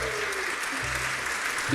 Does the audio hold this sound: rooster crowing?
no